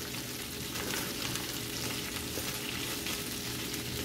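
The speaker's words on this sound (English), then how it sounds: "You can hear the sizzle." A large head of cabbage fries in a pan, giving a dense, steady sizzle with light crackling that holds evenly throughout, fairly close and without talking.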